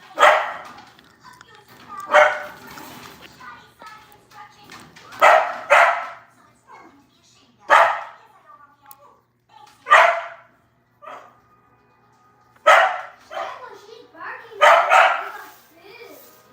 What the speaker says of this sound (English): These dogs want to go outside.